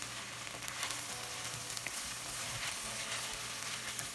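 Vegetables and eggs fry in a hot pan for chicken fried rice, giving a steady, moderate sizzle that runs evenly throughout with no voices.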